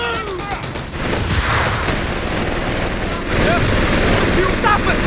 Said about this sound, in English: Taking heavy enemy fire! HMG!